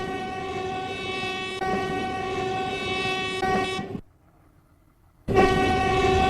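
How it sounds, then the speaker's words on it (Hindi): A train pulling into a station with a loud, sustained horn blast and rumbling carriages, cut off by a brief silence before the horn and rail noise return at full strength. "अच्छा हुआ ट्रेन जल्दी आ गई। ट्रेन तो बहुत खूबसूरत है।"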